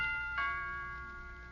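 A doorbell rings in an old family radio sitcom: a single bright chime with a sharp onset whose tone lingers and fades over about a second, set against a quiet, faintly hissy background with no talk.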